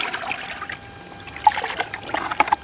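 Water trickles and splashes in short bursts at a household water-filling spot used for ablutions before prayer, with faint scattered drips and a few louder splatters toward the end.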